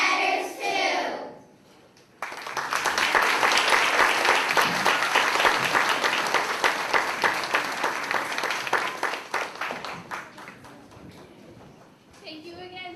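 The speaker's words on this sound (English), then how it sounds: "Give them another round of applause." Sustained applause from a school audience at a third grade academic assembly, loud and dense for about ten seconds before tapering off, with children's voices briefly heard before it begins.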